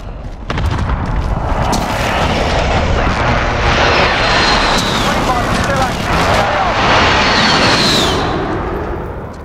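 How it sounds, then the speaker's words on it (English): Precision airstrike explosions go off in the Warzone video game on Rebirth Island, with heavy booming blasts and rumbling debris rolling on for several seconds. The sound is loud and dense, and a whoosh rises near the end. "Be advised, friendly precision airstrike inbound."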